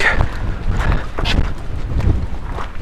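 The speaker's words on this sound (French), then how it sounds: "Ah, là il y a du vent." Strong wind on a mountain hike in the Hautes-Pyrénées near Pic du Midi buffets the microphone in loud, continuous gusts with a deep rumbling roar and no talking.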